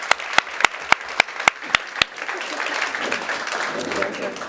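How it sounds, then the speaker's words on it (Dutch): An audience begins with a few loud, evenly spaced single claps, then breaks into full, steady applause from many hands that continues to the end. "Ik zou ook nog heel graag een heel hartelijk applaus willen voor Kelly van der Waals en Hanneke de Graaf."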